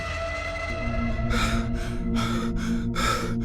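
A person gasps for breath in several sharp, heavy pulls of air, close and loud over a steady low hum.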